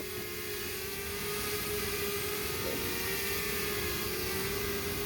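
A small camera drone hovering nearby gives a steady, loud, high whining buzz of spinning propellers with a constant drone tone underneath, unbroken throughout with no talking.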